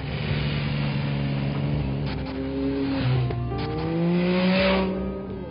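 A Triumph Speed Triple motorcycle engine runs close and loud, its steady drone rising and falling in pitch as the throttle is worked, with no talk over it.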